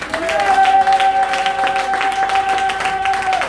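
A church congregation at a French-language service claps and cheers for Jesus, with a broad, steady wash of applause over a sustained organ-like tone.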